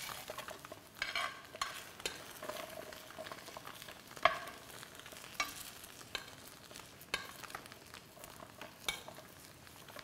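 Tofu fries in fat in a pan, giving a faint, soft sizzle broken by scattered stirring clicks and scrapes across several seconds, with no voices.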